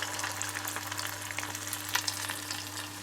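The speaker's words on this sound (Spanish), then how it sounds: "cogemos una porción de masa con 2 cucharitas y ahora vamos a ir poniéndolos en el aceite" Spoonfuls of salt cod fritter batter fry in hot oil, giving a continuous close sizzle with scattered pops and crackles and a faint steady hum beneath, no talking.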